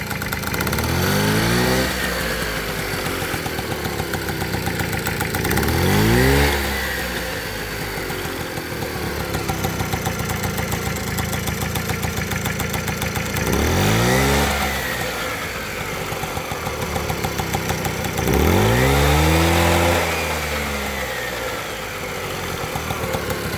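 A 1980 Vespa Piaggio Grande moped's small two-stroke engine with a new carburetor idles and then revs up sharply four times, each throttle blip rising and falling in pitch before settling back to a buzzing idle.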